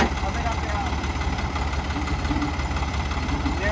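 A tractor engine idles with a steady low rumble and knocking pulse throughout, close and continuous, hooked to a trolley loaded with drain pipes in a rural Punjabi setting; voices talk faintly underneath.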